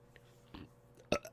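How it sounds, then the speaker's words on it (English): A short, close, wet burp, preceded by a couple of faint throaty gulps, sounds in an otherwise quiet room. "I just fucking burped again, dude."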